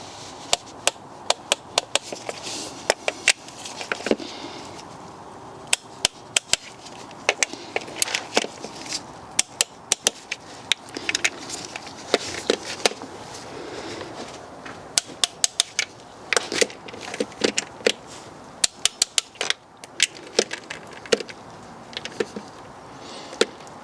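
A torque wrench tightens nuts on a diesel engine, giving rapid bursts of sharp ratcheting clicks and clacks, close and loud, repeating in uneven clusters with brief pauses between.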